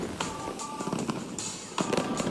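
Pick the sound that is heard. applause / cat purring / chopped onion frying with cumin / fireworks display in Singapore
fireworks display in Singapore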